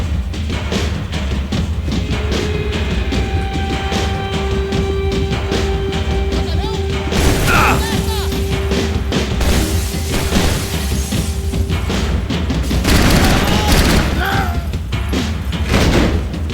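Heavy-weapon fire in the Max Payne video game booms and crashes in dense repeated blasts over a constant loud layer of game noise and music, with a few heavier impacts standing out.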